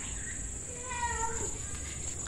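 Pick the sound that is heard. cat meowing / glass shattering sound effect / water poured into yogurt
cat meowing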